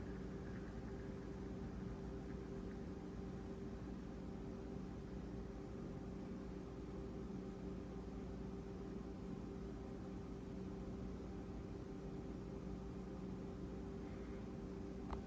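A Manning Bowman table fan hums steadily at low volume as it spins down, with a constant motor whine and soft broadband airflow noise throughout and no speech.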